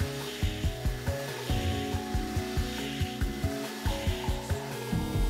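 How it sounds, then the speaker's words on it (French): A wooden fox carving being hand-sanded, with close, rhythmic rubbing strokes repeating about twice a second, steady and moderately loud with no talk. "Je ponce un petit peu."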